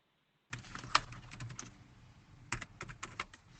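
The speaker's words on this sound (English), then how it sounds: "I can hear you typing" Quiet, irregular clicking of fingers typing on a computer keyboard, in two short bursts separated by a brief pause.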